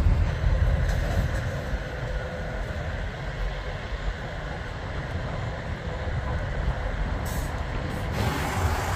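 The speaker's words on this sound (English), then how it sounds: "It turns out trucks drive in the grass here now too." A truck rumbles past nearby on grass in a busy traffic area, a loud continuous low engine drone with a brief hiss near the end.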